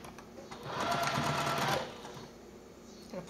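A sewing machine stitches a quarter-inch seam along a zipper on a fold-and-go wallet, a close rapid whirring run of about a second, starting and stopping with a faint click at the end.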